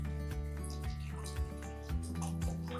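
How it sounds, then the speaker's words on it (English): Raw, unpasteurized apple cider vinegar poured into a jar over vegetables, a soft, close trickle and splash with small dripping and gurgling bursts, fairly quiet and steady. "now we're gonna pour apple cider vinegar"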